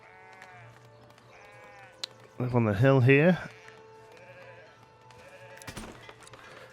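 A sheep on a farm in the video game Foundation gives one loud, wavering bleat lasting about a second, rising over quiet ambient game sound while someone talks briefly nearby.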